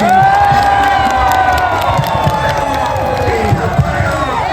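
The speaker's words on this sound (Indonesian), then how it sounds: "kita berikan aplaus yang meriah buat kawan-kawan semua Boro Jawa Timur" A large outdoor crowd at a Labor Day workers' rally cheers and applauds loudly and continuously, with shouts and whoops rising above the steady roar.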